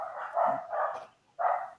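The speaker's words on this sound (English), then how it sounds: "Suddenly, dogs coming in the background." Dogs bark repeatedly in bursts, a few sharp yips and barks with a short pause before another round, moderately loud and without talk.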